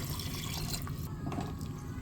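Water poured into a pot of tinola chicken soup with kangkong, chili and pechay, a soft continuous splashing and trickling, fairly quiet.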